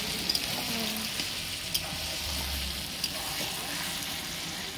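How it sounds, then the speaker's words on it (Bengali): Pumpkin fritters (kumror chop) sizzle steadily as they fry in hot oil, a continuous crackling hiss with a few sharper pops, close by. "এদিকে কুমড়োর চপ ভাজা হচ্ছিল।"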